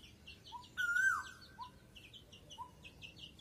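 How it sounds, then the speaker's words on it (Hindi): An Asian koel calling outdoors at a pigeon loft, a rising whistled note standing out over repeated chirps from other birds, moderately distant against a soft background hum. "यार कोयल बड़ा प्यारा चिल्ला रही है"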